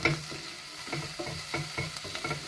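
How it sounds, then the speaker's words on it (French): Onions sizzle and fry in a pan, a steady crackling hiss broken by regular scraping strokes as they are stirred, close and moderately loud with no voices. "pensez à remuer vos oignons de temps en temps, quand même, pour pas qu'ils brûlent"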